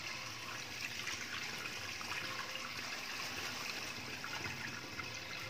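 Freshly washed groceries draining in a kitchen, with a steady close trickle and dribble of water running continuously without pause, no voices present.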